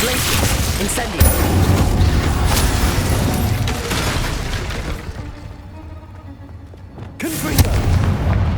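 An Incendio fire spell in Hogwarts Legacy erupts in a dense, roaring burst of combat noise with sharp pops and booms, easing off briefly before another loud blast near the end.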